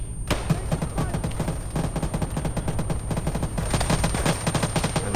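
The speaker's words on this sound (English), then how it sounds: "That's damn right you're taking fire." Rapid, sustained bursts of gunfire ring out without a break in a military shooter game set on Sahrani alongside Marines. The shots come as loud, dense volleys close by, with distant reports layered underneath.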